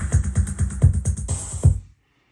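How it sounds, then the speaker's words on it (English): A Cherry Audio CR78 drum machine emulation plays a quirky, steady rhythmic beat of punchy kicks and ticking hi-hats, loud and close, before stopping abruptly. "I also added a drum beat that I made on Cherry Audio's CR78 emulation."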